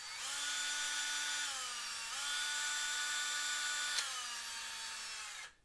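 A power drill bores holes through a Necromunda tabletop gaming board, a close, loud whine that holds steady, dips in pitch under load, briefly catches with a sharp click, then winds down and stops.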